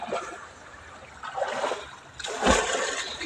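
A small stream flowing strongly toward the Meenachil river, rushing and splashing water heard close with surges growing louder, no talk.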